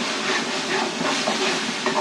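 Masala frying in a pan, a dense steady sizzle and hiss that stays loud and even throughout, close up, with no talking.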